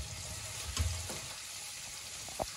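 Garlic fries in a pot for a daal mash with chicken dish, giving a faint, steady sizzle with a couple of soft knocks and stirring sounds near the start and end.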